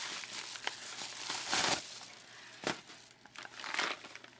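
Paper mail packaging being torn and crumpled open by hand, with crinkling bursts around 1.5 and 2.7 seconds and lighter rustles between, close up and without talk.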